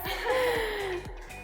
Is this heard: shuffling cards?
no